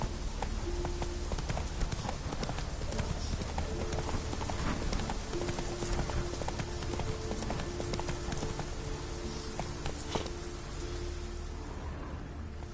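Horse hooves clip-clopping steadily while riding in The Witcher 3, a continuous rhythmic trot under a dense ambient bed with rain-like noise, no talk.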